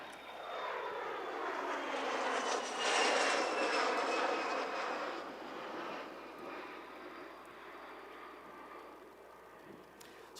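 A fixed-wing airplane engine runs steadily close by at an outdoor memorial gathering, swelling louder for a few seconds and then settling into a sustained, gradually fading drone with no talk over it.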